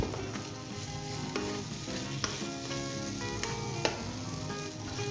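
Bengali mutton curry with fresh coriander and green chillies sizzles steadily in a pan while a spoon scrapes and stirs through it, leaving sharp clinks at irregular intervals over the continuous frying hiss.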